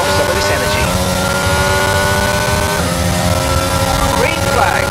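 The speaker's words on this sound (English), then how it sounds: "one of the most annoying bugs was the sound glitch" Racing car engines whine steadily and loudly in the F1 22 video game with a glitched audio track, layered and droning with shifting pitch, while a voice talks over it.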